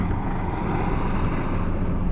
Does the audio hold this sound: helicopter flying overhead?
yes